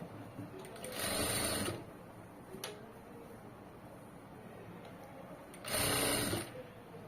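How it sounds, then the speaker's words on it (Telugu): Sewing machine hemming the plain cloth with two sustained whirring bursts of rapid stitching, close and clear. Quiet handling of the fabric fills the pause between them. "రెండో సైడ్ నేను హెమ్మింగ్ చేయిస్తానండి."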